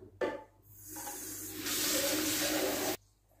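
Water sprays in a steady hissing jet onto a household radiator being cleaned, starting after a brief burst, swelling louder midway, then cutting off abruptly, close and alone without talk.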